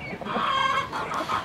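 Farm chickens and a rooster in a coop cluck and call close by, a busy overlapping chatter of hens with some sharper squawks, loud and without talk.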